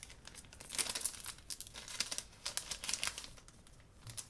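Plastic wrapping of a blind box sticker pack from Japan crinkles and tears as it is opened by hand, a close, quiet run of irregular rustles and crackles with no talking.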